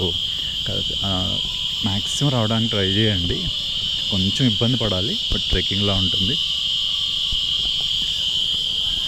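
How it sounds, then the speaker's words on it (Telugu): Crickets chirp in a forest along a trekking route to a Telangana pilgrimage site, making a steady, continuous high buzz throughout while someone talks over it. "ఆ కీచురాళ్ళు ఇలకోళ్ళ సౌండ్లు చూస్తున్నారా"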